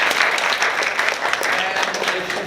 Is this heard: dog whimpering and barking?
no